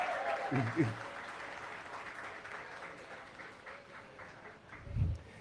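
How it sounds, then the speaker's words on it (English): Guests at a birthday celebration and book launch give a faint, distant round of applause for the VIPs. It sits low under brief bits of speech at the start and end. "may we have a round of applause for the VIPs"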